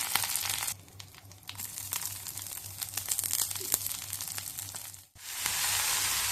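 Curry leaves dropped into hot oil in a pan for paneer sukka: a steady, close sizzle that briefly dips, flares up with crackling and spitting, then settles back into a loud, even fry.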